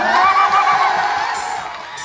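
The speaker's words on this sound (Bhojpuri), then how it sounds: "चारों तरफ से तने को ताली बजा के हल्ला कर दो।" A crowd at a live Bhojpuri stage show in Begusarai cheers and shouts loudly and continuously, with excited voices whooping together over a steady roar.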